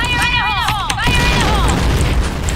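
Grenade blast in the shooter game Point Blank, a loud booming rumble that swells and lingers under overlapping in-game voice effects and chatter.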